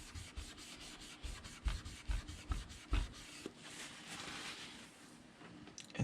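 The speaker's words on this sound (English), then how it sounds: "Got another part of the kitchen towel and rub my finger on the sampling area like so." A finger rubbed with a kitchen towel over a painted sampling area on a model railway item, giving close, soft, papery scrubbing strokes in an uneven rhythm that runs on for several seconds.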